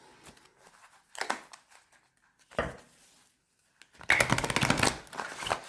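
Cards being shuffled for a tarot-style reading: soft riffling bursts separated by quiet pauses, ending in a longer, louder run of rapid flicking.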